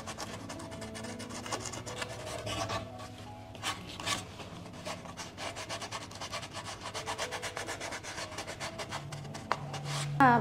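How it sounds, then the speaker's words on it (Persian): Sandpaper rubbing along the edges of modern plaster moulding from both sides, a steady close rasping with repeated strokes and a few brief knocks, no voices. "من میخوام لبه های کارم کاملا تیز باشه، پس میام از دو طرف سنباده میکشم"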